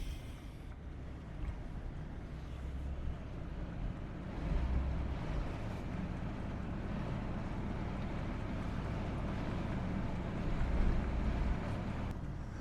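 Wind blows at a hilltop in Niobrara State Park, a steady broadband rush buffeting the microphone, with gusts swelling around the middle and near the end and no voices.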